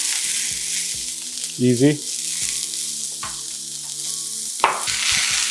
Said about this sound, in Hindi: मैंने प्याज डाल दी, इनको हम गोल्डन ब्राउन कर लेंगे